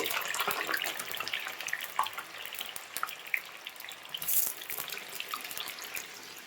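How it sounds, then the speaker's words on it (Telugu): Potato pieces deep fry in hot oil, producing a continuous crackling, bubbling sizzle with scattered sharper pops, close and moderately loud. "ఇప్పుడు బ్యాచ్ వైజ్గా కొన్ని ఆలు పీసెస్ తీసుకుంటూ ఈ ఆయిల్లోకి వేసుకోవాలి."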